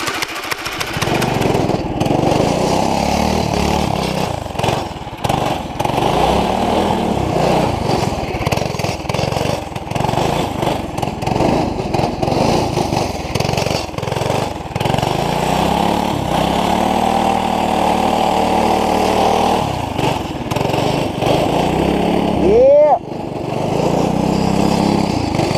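A small go-kart engine drones loudly and without a break on a frozen lake, its pitch rising and falling in sweeps as the kart revs and drifts across the ice.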